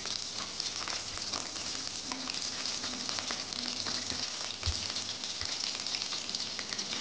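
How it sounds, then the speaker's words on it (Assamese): Onion, garlic and a few dried red chillies fry in hot oil in a pan with a steady, soft crackling sizzle and scattered pops, moderately quiet and continuous with no voice. "এতিয়া ইয়াতে পিঁয়াজ, নহৰু আৰু দুটামান শুকান জলকীয়া দি দিছোঁ।"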